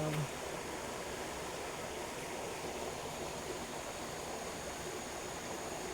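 Steady broadband rush of flowing stream water, continuous and even throughout, with no distinct events standing out.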